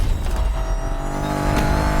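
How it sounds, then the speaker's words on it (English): A sports car engine roars steadily with a rich, throaty hum, loud and close, with no voices. "The brand is Aston Martin, and the car is the 2024 Aston Martin Vantage."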